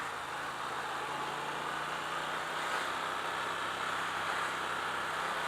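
A 2017 Triumph Thruxton R motorcycle engine runs steadily with a low, even drone, heard faintly from the rider's perspective with wind and road noise throughout.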